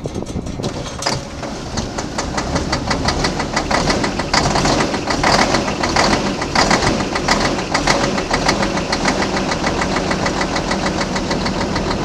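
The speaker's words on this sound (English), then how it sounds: "let's see how the C5 starts here. It should start right up." Diesel engine of a C5 tractor cold-starting at 14 degrees without a block heater, then settling into a steady, loud, rhythmic knocking idle close by, with no talk over it.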